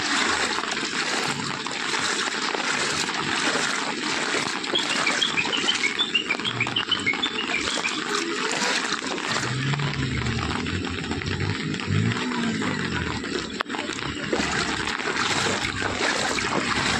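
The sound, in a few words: flood water over Assam Agartala road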